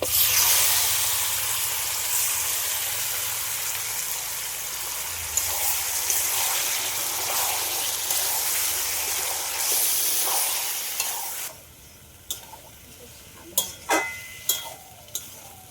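Marinated pepper chicken in spiced masala sizzles loudly and steadily in a pan, then the hiss suddenly drops away, leaving a few sharp clinks of stirring.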